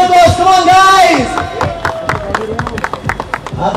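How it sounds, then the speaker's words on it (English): A crowd applauds and cheers to welcome actress Adah Sharma at a pani puri food festival, with loud claps and babble mixed under a voice that fades into scattered clapping. "Adah Sharma, let's have a huge round of applause."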